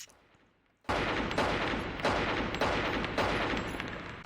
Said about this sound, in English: That's fancy shooting